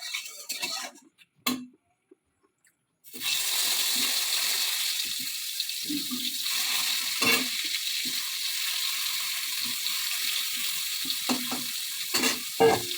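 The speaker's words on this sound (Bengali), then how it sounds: "তো পটল ভাজিটা বসিয়ে দিলাম" Pointed gourd slices (potol bhaja) frying in a wok on a home kitchen stove, giving a steady close hiss and sizzle after a short quiet gap, broken by occasional stirring clinks and scrapes.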